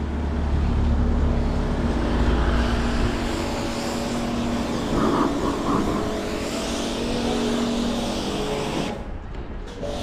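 Maserati engine on a Bristol street, a steady low motor hum over street noise, with a short burst of street sound midway and a dip near the end.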